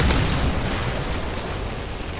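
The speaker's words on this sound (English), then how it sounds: "Friendly Predator missile inbound." A Predator missile strike lands in Modern Warfare 3 multiplayer, a loud, broad explosion that erupts at once and rumbles on with roaring debris for about two seconds.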